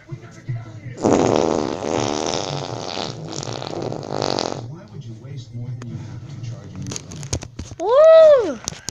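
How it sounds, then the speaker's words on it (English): A fart sound from a farting skeleton toy rasps for several seconds, then after a pause a short warbling tone rises and falls near the end, loud and close. "I'm surely a farting skeleton"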